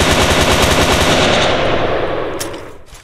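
Rapid, loud automatic gunfire from guns in the SSRP video game, one continuous spray that tapers off slightly at the end.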